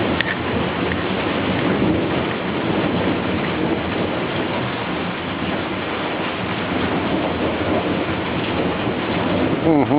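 Heavy thunderstorm in New Orleans, with dense, loud rain pouring steadily and thunder rumbling underneath as lightning strikes often, forming a continuous close wash of sound without speech.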